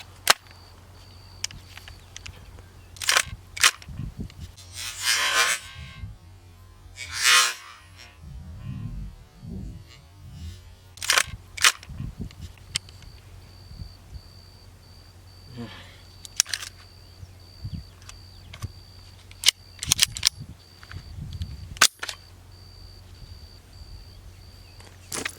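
A suppressed PSA JAKL rifle chambered in 300 Blackout fires outdoors, with sharp muffled cracks spaced irregularly over a low steady hum and occasional voices in between.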